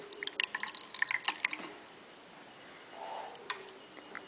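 Liquid dripping through a filter paper in a funnel during a lab filtration, a quick run of faint, clear drops early on, then sparse isolated drips against quiet background.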